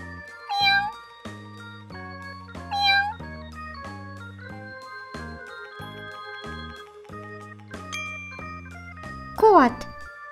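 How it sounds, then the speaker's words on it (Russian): A cartoon cat meows three times, two short bright meows early and a longer rising one near the end, over steady cheerful children's music. "Кот."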